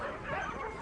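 Sled dogs that live outdoors in extreme cold give a brief, soft bark and whimper, a quick yip-like call at moderate distance.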